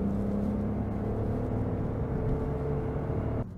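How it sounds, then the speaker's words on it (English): Toyota Yaris Hybrid with its 3-cylinder engine at motorway speed, a steady low engine grumble blended with constant tyre roar from inside the cabin, dropping off abruptly at the end. "You get a bit of tyre roar, and if you're at motorway speeds, then the grumble of the 3-cylinder engine comes in."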